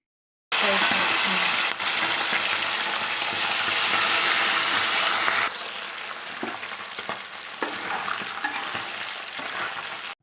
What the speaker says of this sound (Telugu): ఇది అయితే తీసుకొని ఇప్పుడు కడాయిలో అయితే వేస్తున్నాను చూడండి. బాగా ఆయిల్ అనేది బాగా హీట్ కావాలి.